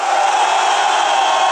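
A crowd at a hip hop battle arena cheers and roars in a dense, loud, continuous wash of voices with no pauses.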